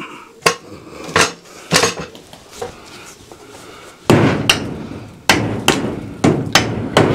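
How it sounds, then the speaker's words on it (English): A hammer drives nails into hard polystyrene board on a screen patio, landing a string of sharp, loud, ringing blows, slow and uneven at first, then heavier and closer together. "It's like nailing into cement."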